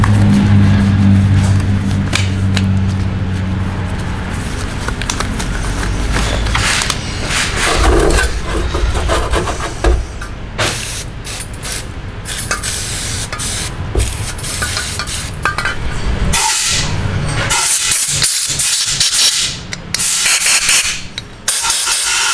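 Compressed air blasts off a cleaned Keihin PWK carburetor on a workbench, giving a loud, continuous hiss with short surging bursts and sputters that run for over twenty seconds.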